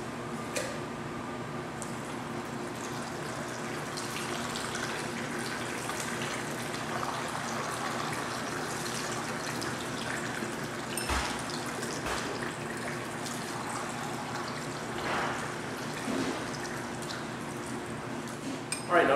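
Liquor streams into several shot glasses at once during a flair bartending multi-pour, a steady continuous splashing and trickling of liquid with faint drips, close and alone without talk.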